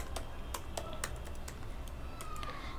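Code being typed on a computer keyboard, a quick irregular run of light key clicks, close but quiet over a steady background hiss, with no talking.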